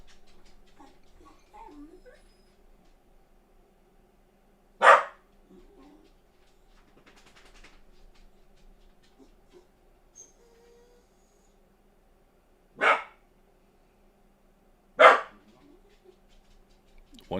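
A dog gives three sharp, isolated barks spaced several seconds apart, the last two closer together, against a quiet background hum.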